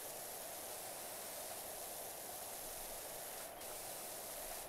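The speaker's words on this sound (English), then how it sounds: "Other noises of spraying are also available." Steady, loud pressure washer spray hiss in the video game PowerWash Simulator while cleaning a filthy gnome fountain, running continuously and evenly for the whole stretch.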